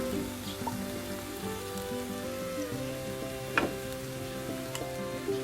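Noodles with oyster sauce being stir-fried and tossed in a pan, a steady close sizzle with scattered scraping stirs, alone without voices over soft background music.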